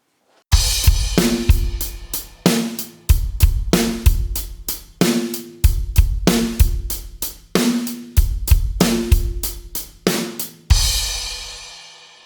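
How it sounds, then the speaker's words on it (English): A rock drum kit plays a steady beat with hi-hat and snare, leaving the kick out entirely on beat three; loud, close and repeating for several bars before ending on a ringing crash. "There is a rest on beat number 3, so we don't play a kick at all on 3."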